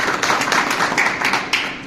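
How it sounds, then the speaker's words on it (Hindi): Audience at a BJP party workers' political gathering clapping steadily, a dense continuous patter of many hands with a few louder bursts, close and fairly loud, no talk over it. "एक बार उनके लिए ताली बजाएं।"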